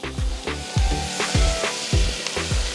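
Clams dropped into sizzling spice masala in a pan for a clam fry, a steady loud frying hiss broken by regular thumps and scrapes of stirring, about one every half second.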